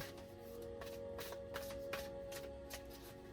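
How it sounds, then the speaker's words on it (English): A deck of playing cards is shuffled in quick repeated riffles, close and fairly quiet, with no talking. "I like to shuffle on the camera so you guys know what's up and that I'm actually shuffling these"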